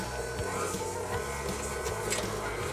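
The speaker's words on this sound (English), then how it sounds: "we're gonna actually go ahead and mix our butter and sugar together" Electric hand mixer creaming butter and sugar for potato chip cookies, a steady close motor whir with faint scraping and knocking in the bowl, running continuously without talk.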